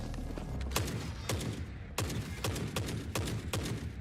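A .50 BMG rifle fires in semi-auto in the video game The Forever Winter, about seven heavy, sharp reports spaced roughly half a second apart, each ending in a booming low tail.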